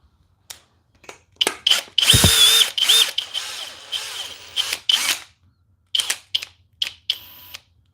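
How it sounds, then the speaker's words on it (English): A power drill on turbo mode whirs in short and longer bursts, starting and stopping repeatedly with clicks and gaps between runs, close and fairly loud. "It's a freaking drill."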